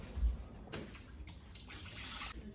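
Water splashes and sloshes in short bursts as lentils are swirled and rinsed by hand, fairly close and quiet.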